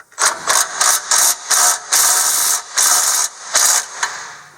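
An impact wrench hammers in a rapid series of short, loud bursts while tightening a Curt receiver hitch bolt on a Toyota FJ Cruiser. The tool is close, with about a dozen rattling pulses and brief gaps between them.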